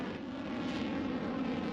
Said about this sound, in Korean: 흰 연기와 불꽃을 내뿜으며 로켓이 우주를 향해 힘차게 날아올랐습니다.